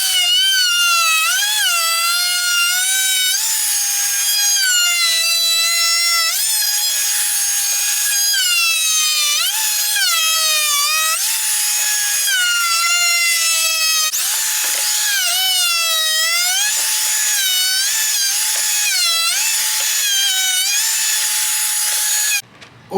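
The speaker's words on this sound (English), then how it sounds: "let's go ahead and chamfer out these guys real quick" A power tool chamfers the edges of custom door panels for a Silverado, giving a loud, continuous high-pitched whine whose pitch dips and rises as the bit bites into the material, running close for over twenty seconds before cutting off.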